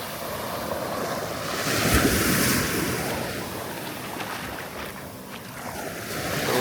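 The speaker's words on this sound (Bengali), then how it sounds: "নিচেই সমুদ্রের ঢেউ সমুদ্রের গর্জন" Sea waves on the coast of Langkawi island, a broad continuous rushing roar that swells and ebbs, mixed with gusts of wind buffeting the microphone, with no voices.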